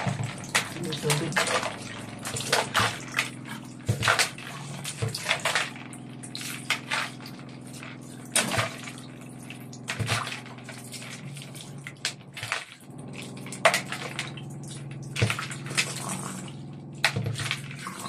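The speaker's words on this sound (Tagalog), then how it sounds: "Tubig." Water runs continuously from a tap, splashing and gurgling unevenly, with people talking over it throughout.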